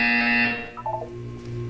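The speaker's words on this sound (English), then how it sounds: "When you hear the buzzer, look down at the floor." A buzzer in the Portal 2 video game sounds as a loud, steady electronic alarm tone that cuts off abruptly, followed by a brief fading ring and a quiet hum.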